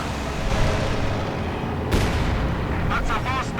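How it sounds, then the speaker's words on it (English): A Sturmovik ground-attack plane makes a strafing pass over a battlefield in Company of Heroes 2, heavy rumbling gunfire and blasts rolling steadily with a sharp crack midway. "Sturmovik made a pass."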